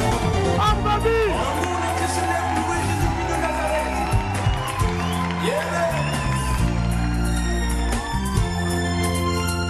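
An audience cheers loudly, with whoops and shouts rising over a dense, continuous crowd roar, and voices and music underneath throughout.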